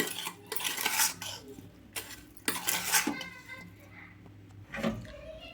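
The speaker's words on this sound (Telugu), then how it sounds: "ఇది మొత్తం బాగా కలిపే విధంగా అయితే కలుపుకోవాలి" A spoon clinks and scrapes in a metal vessel while Indian gooseberry (amla) pickle is stirred with lemon juice, several irregular close clatters with quieter pauses between them.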